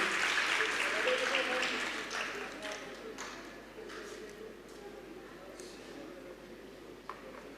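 Audience applause at an award ceremony closing a live medical program on diabetes, clapping that is strongest at first and then settles into softer, sparser claps, heard at a moderate distance with faint talk underneath.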